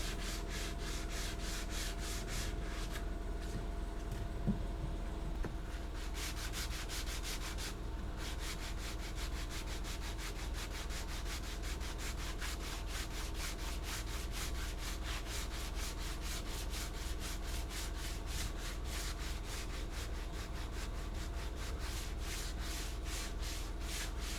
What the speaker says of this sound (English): Eventually I had to go in with some sandpaper glued to my finger to try and get a nice smooth shape